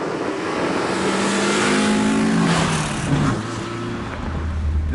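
A classic 1970s BMW 2002 engine drones steadily from inside the cabin while driving, with rising and falling pitch as it revs through gears, loud and continuous with no talk.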